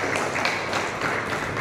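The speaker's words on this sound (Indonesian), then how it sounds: "kita berikan tepuk tangan yang meriah buat Ibu Ketua Umum" A crowd at a PDI Perjuangan and PPP party gathering bursts into loud, dense applause, a brief sustained wash of clapping with no break.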